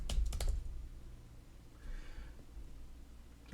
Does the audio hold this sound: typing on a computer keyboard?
yes